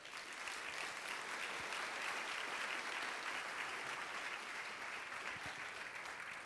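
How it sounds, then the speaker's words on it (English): Steady, dense applause from a summit audience welcoming a DIRECTV chief executive, an even wash of clapping sustained throughout. "let's give him a big round of applause"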